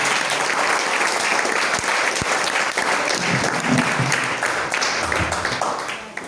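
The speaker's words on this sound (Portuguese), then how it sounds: "Uma salva de palmas para o Neemias." A church congregation gives a sustained round of applause after a sermon, dense steady clapping filling the room for several seconds and tapering at the end.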